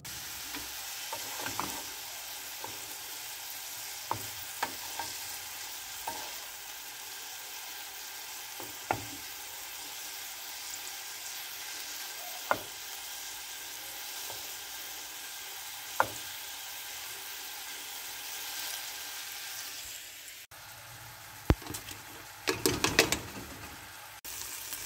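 Turkish sultan soup mixture fries in a pan, giving a constant close sizzle with occasional sharp clicks and taps, then a brief cluster of scraping stirring sounds near the end.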